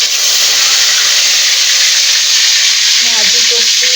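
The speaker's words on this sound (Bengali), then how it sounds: "ভাজি করছি, করলা ভাজি করছি, আলু ভাজি করছি" Bitter gourd and potatoes fry in a pan with a loud, steady hiss of oil that barely changes, close up, and faint background voices or sounds surfacing near the end.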